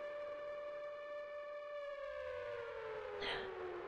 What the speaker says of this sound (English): The sirens are still going a little.